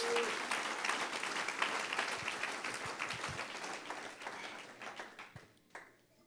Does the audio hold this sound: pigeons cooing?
no